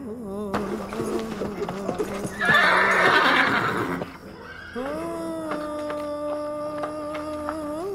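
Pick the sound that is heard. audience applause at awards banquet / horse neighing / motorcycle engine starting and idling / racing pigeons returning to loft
horse neighing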